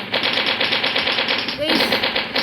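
Rapid automatic gunfire from the Mini Militia video game, a steady, dense rattle of shots that continues loud and close for the whole stretch with little pause.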